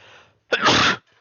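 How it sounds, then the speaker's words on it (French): A single sharp, loud sneeze bursts out close to the microphone after a short intake of breath, with faint murmuring before and after. "Excusez-moi, j'ai éternué."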